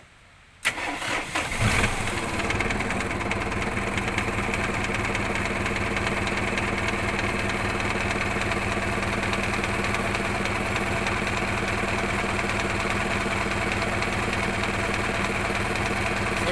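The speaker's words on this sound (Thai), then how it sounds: "ติดเครื่องใช่ไหม ติดเครื่องไปเรื่อย" Farm tractor engine cranking briefly, catching and then running steadily at a constant rumbling idle with a dense mechanical clatter. Close and loud, with no talking.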